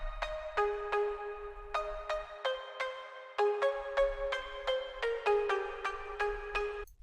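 Serum synth preset called plug Summer for a progressive house lead, playing a bright plucked melody of short repeated notes with clear harmonics, steady and close, no voices.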